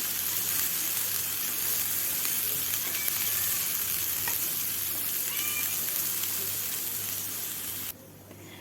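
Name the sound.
dry roasting moth beans in a pan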